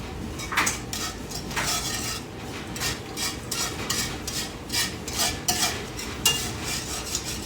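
A spoon repeatedly scrapes and clatters in a pan while casserole ingredients are broken up and mixed, a continuous rhythmic stirring with irregular metallic knocks.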